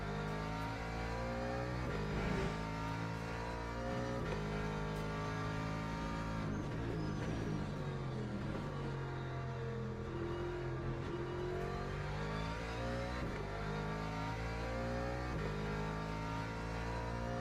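Ferrari race car engine in the Le Mans Ultimate sim racing game, a continuous high-revving roar with harmonics sliding up and down through gear changes, loud and steady throughout, with no talking.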